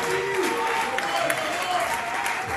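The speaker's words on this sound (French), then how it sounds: "sur nos applaudissements" A crowd claps steadily at an awards ceremony for Congolese comedians and artists, with an announcer's voice running over the sustained applause.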